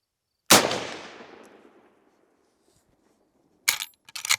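A single sharp rifle shot rings off a Caldwell AR500 steel dueling tree, its metallic clang decaying over about a second and a half, followed by a few quick clanks and rattles after a pause.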